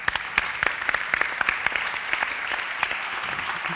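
Conference attendees at a soil health event clap for Jon and his team, a moderate burst of scattered, crisp handclaps heard fairly close and holding steady.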